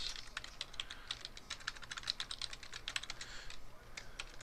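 Quick keystrokes on a computer keyboard as an FTP address is entered, a busy run of light, close clicks with uneven rhythm, fairly quiet and without talk.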